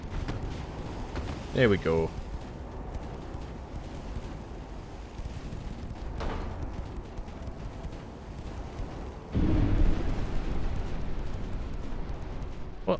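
Rear turrets of a warship fire in the Ultimate Admiral Dreadnoughts video game: a heavy, rumbling blast swells and lingers over a windy sea backdrop, with someone talking throughout.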